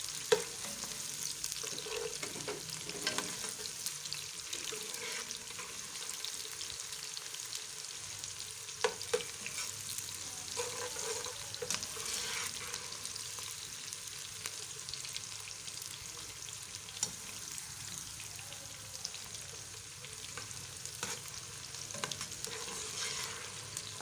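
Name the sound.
onions frying and being stirred in a pan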